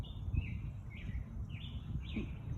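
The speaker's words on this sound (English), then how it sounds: "Listening to the birds." Birds chirp in short repeated calls over a low rumbling outdoor background, faint and somewhat distant.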